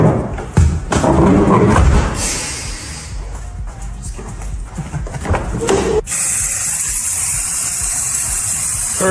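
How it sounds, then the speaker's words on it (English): Bug bomb insecticide fogger spraying inside a Chevrolet Corvette C5 under restoration, starting as a loud steady hiss at about six seconds after a stretch of rustling and thumps, then continuing unbroken and close. "Time to bug bomb the Corvette."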